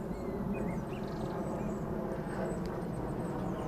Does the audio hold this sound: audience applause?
no